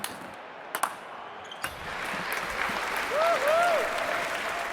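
Spectators in the London 2012 Olympic Games video game applaud in a swelling, moderately loud crowd cheer after a few sharp ball hits, with a commentator's voice nearby.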